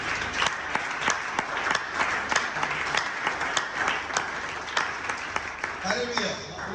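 Church congregation applauding in praise, steady dense clapping throughout with a few sharper claps standing out, and a voice speaking near the end.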